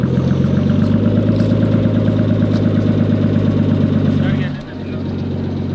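A Nissan R32 Skyline engine running on its first start, a loud, steady close-up idle with a rough, pulsing drone, dipping sharply near the end before settling back at a lower level.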